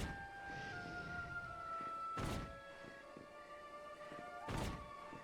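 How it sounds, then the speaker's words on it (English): Two sharp, heavy thunks of crossbow bolts striking a dragon in Dragon Quest XI S, spaced a couple of seconds apart over a steady tonal game-music drone. "You just keep shooting at this dragon and absolutely nothing will happen."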